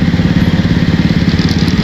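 Motorcycle engine running steadily at speed on a pre-dawn ride through Zapote, Las Piñas, Cavite, a loud close pulsing drone throughout with no talking.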